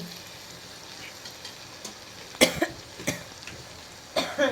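Spices tempering in hot oil in a steel pot, a low steady sizzle punctuated by several sharp popping crackles that grow more frequent toward the end.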